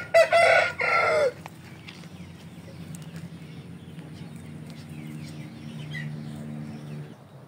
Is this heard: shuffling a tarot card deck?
no